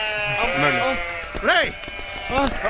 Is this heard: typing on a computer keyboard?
no